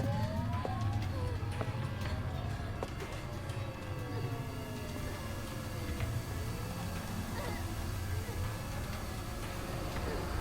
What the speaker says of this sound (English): What's up with the sirens?